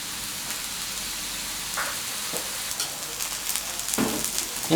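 Water with tilapia in fermented bean sauce heating toward a boil in a pot gives a steady, close hissing simmer with scattered bubbling pops and a brief stir near the end.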